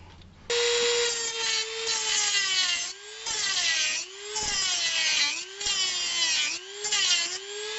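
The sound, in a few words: grinding wheel cutting off bolt posts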